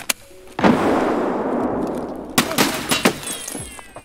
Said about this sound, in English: That was a clean headshot.